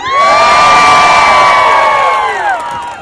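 A large crowd at a political rally at a university stadium screams and cheers loudly, high sustained shrieks and whoops from many voices swelling together and trailing off near the end.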